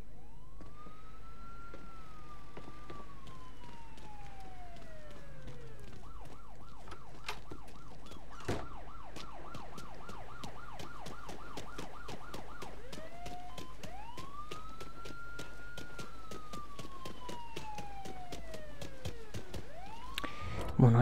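In the video game Mafia 3, a police car siren wails in long rising and falling sweeps, switches to a rapid yelping stretch, then returns to slow wails. It runs continuously over a low engine hum.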